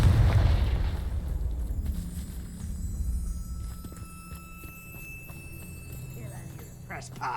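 An explosive Confringo spell blast in the Hogwarts Legacy video game, a loud deep boom at the start that rumbles and fades over several seconds under faint game ambience, with a voice present.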